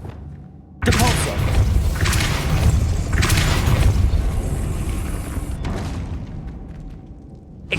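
A Depulso spell cast in a Harry Potter video game, heard as a sudden loud booming blast that keeps surging and thudding for several seconds before fading, with a fresh hit at the very end.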